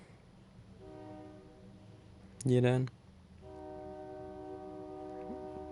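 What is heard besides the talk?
passing train with train horn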